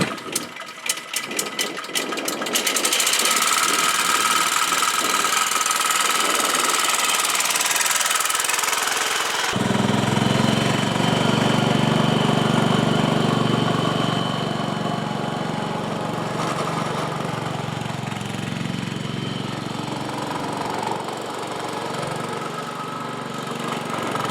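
Allis Chalmers 310 garden tractor engine, restored, running steadily and loud on a ride, with a sharper clattering start before settling into a continuous drone for the rest of the stretch.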